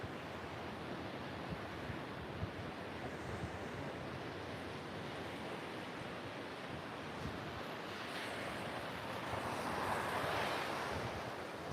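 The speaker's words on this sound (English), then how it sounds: "Can you hear the waves just crashing in" Waves break steadily on a rocky coast as the tide runs out, a continuous broad wash of surf with wind buffeting the microphone, swelling slightly louder toward the end.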